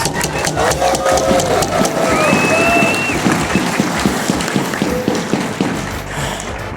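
Convention audience at BABSCon 2025 breaks into sustained applause, a dense wash of clapping with a few whoops rising through it, steady and loud across the room before slowly thinning out.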